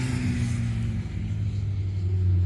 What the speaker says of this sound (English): Well, this is the Arctic Circle Raceway. Didn't think there'd be much on today, but we're called in here. Looks like there's some racing on.